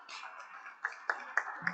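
Audience clapping at an environmental policy panel, a few sparse claps, about four distinct sharp ones spaced across under two seconds, fairly close and faint, mixed with a soft voice.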